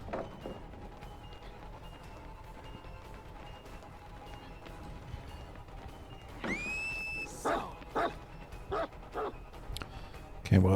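The Houndmaster's dog in Dead by Daylight gives a short run of barks and yips, moderately close, over low background game ambience, with a brief whining sound leading into them.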